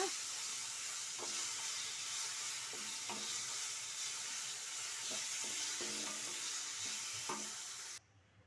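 Raw banana slices seasoned with chilli powder sizzle and hiss in a pan, with a steady frying crackle punctuated by periodic scrapes and clinks of a spoon stirring, before the sound cuts off at the end.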